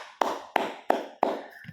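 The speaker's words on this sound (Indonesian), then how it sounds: "Tepuk tangan buat Mas Charles" Four distinct hand claps, evenly spaced and sharp, each with a short ringing tail, in a quiet room with no talking.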